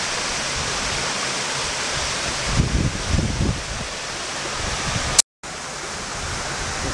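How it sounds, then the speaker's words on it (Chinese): A waterfall on a South Lantau hiking trail in Hong Kong gives off a steady, even rush of falling water, with a slightly louder surge partway through and no voices. "两瀑布啲水几清"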